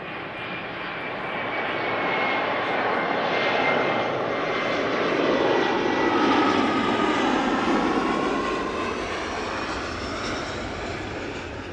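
Airliners arriving on approach at Amsterdam Schiphol Airport on a sunny day, a loud close roar of aircraft engines building and swelling overhead, then slowly easing, steady and continuous with no talking.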